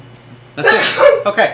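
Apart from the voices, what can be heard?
sneeze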